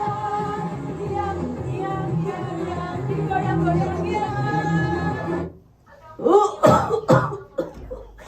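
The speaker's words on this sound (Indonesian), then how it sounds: "Ibu itu tambah batuk terus ini loh" Harsh, repeated coughing comes first, then stops; after a brief pause, a few more coughs and throat sounds follow in short bursts.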